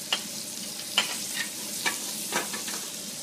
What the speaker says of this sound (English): in the meantime, the mushrooms are going to cook